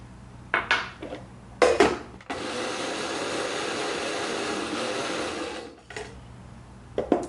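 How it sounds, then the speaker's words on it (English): A kitchen grinder runs for about three and a half seconds, blending egg curry masala with coriander, framed by clattering jar and lid handling before and after; no voices. "Grind it for a little bit."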